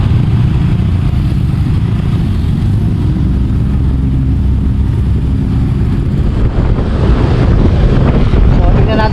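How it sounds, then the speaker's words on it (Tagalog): Strong wind roars steadily along a flooded highway, a loud, continuous rushing gust noise buffeting the microphone throughout with no letup. "Lakas pa rin ng hangin"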